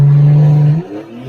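An 800-wheel-horsepower street car that runs nine-second passes accelerates hard, a loud close engine roar for most of a second before the note drops away as the car pulls off.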